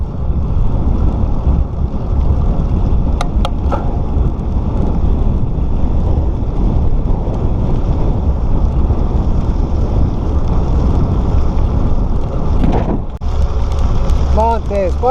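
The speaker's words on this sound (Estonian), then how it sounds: "Kõva tuul." Strong wind buffets the microphone while cycling on a desert road in Utah, a steady loud roar and rumble throughout, with a couple of brief knocks and a short break near the end.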